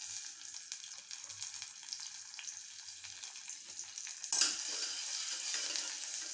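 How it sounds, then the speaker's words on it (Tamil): Cinnamon, cloves and star anise fry in hot oil, a faint soft crackle that swells into a louder, steadier sizzle partway through, with no voices. "இப்போ நம்ம எண்ணெய் காஞ்ச உடனே பட்டை, கிராம்பு, அன்னாசிப்பூ இவ்வளோ எண்ணெயில் போட்டாச்சு."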